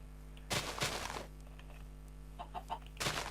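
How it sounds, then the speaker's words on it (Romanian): Several short bursts of Minecraft chickens clucking, a few loud close calls with quieter clucks between, over a steady low hum. "Multe găinușe, foarte multe."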